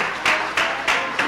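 Church congregation clapping together in praise, four or five loud, evenly spaced rhythmic claps from a crowd.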